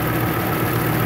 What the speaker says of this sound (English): the engine sounds a little sweet just by moving the ignition time